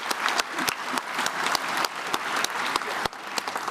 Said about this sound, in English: we will give that a good round of applause